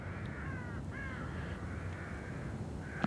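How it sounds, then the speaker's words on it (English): Crows cawing in the horror video game The Evil Within, a few hoarse caws repeating at a slow, uneven pace, soft and distant over a low murky ambient rumble. "I hear crows up there."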